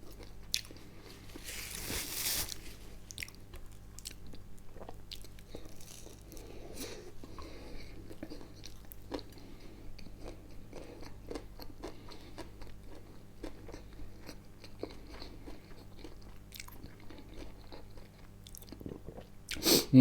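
Close, quiet chewing of hot dogs runs throughout, with irregular soft bites, crunches and wet mouth sounds over a low background hum.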